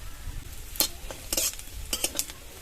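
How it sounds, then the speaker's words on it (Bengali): Whole spices, ground ginger, fennel, cumin and coriander frying in ghee, heard as a soft sizzle with several quick, close spoon scrapes and stirring clinks against the pan. "একটু আদা গুঁড়ো করে নিয়েছি, মৌরি, জিরে আর ধনে, এগুলো এই ঘিয়ের মধ্যে দিয়ে দেবো।"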